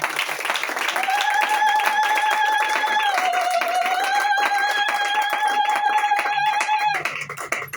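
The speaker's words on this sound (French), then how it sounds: "Acclamons très fort pour notre" A convention audience claps steadily for a preacher, a dense wash of applause with a sustained, high, voice-like tone ringing over it for several seconds before it trails off.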